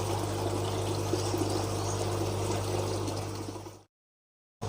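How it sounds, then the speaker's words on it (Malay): Water pours steadily into the tank of a DIY 18-hole hydroponic system, a continuous close splashing stream that stops abruptly into silence near the end. "Isi air di dalam tangki."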